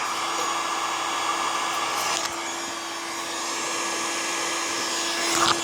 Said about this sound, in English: I take my heat gun and I heat it up with one hand.